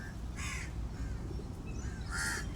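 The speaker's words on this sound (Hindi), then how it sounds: "सुबह सुबह ये सब लोग दाना खाने आ गया है चिड़िया।" Crows gather in the morning to eat grain scattered on the ground. A few caws sound faintly at a distance over low background rumble, two of them clearest and spaced apart.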